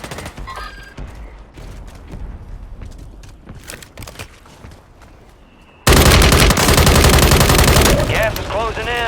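Automatic weapon fire in Call of Duty Warzone on the Urkistan map: scattered shots and game sounds give way to a sudden, loud, sustained burst of rapid gunfire in the last few seconds.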